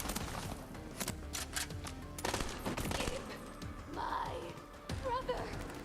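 Rapid gunfire from a weapon in the shooter game Borderlands 3, dense bursts of shots packed together with game effects and chimes, loud and continuous throughout.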